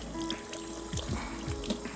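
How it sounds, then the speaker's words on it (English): Running tap water trickles and splashes over hands being washed in a home kitchen, a steady close wash with brief uneven splashes and no talking. "Wash my hands."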